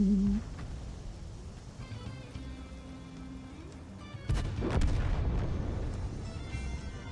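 Artillery fire in a tank video game, a sudden heavy boom midway through followed by a rumbling roll, set against a low continuous engine-like drone.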